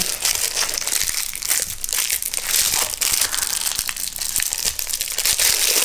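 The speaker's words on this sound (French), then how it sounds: "Je vais défaire le papier." Continuous crinkling and crumpling of paper being unwrapped from a resin mould, with sharp crackles scattered throughout, close and fairly loud.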